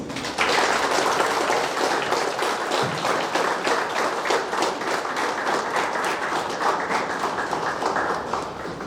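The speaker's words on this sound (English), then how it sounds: "You may now give applause to the degree recipients." At a university convocation, a large audience applauds the degree recipients with dense, sustained clapping that begins abruptly and continues strongly for nearly nine seconds before easing slightly at the end.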